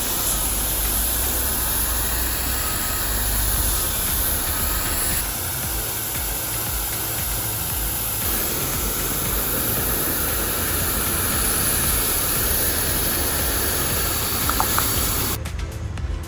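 A pressure washer on a long hose hisses steadily and loudly for a long stretch while cleaning a large 21,000-square-foot outdoor pool deck. The steady spray noise continues almost unchanged throughout.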